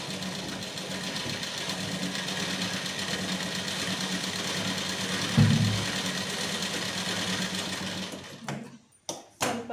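A sewing machine runs steadily while stitching a blouse sleeve, making a continuous close whirring drone for about eight seconds. It then stops and a few scattered clicks and knocks follow.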